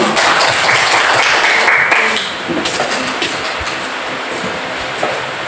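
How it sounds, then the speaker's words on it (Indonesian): Students clap together in an Indonesian Islamic lesson on Surah Al-Maun, a loud, dense burst of applause that fades slightly after two seconds and carries on at a lower level. "Ya, tepuk tangan dulu."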